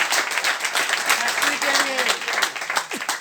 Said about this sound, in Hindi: एक बार ताली बजा सकते हैं आप लोग इसके लिए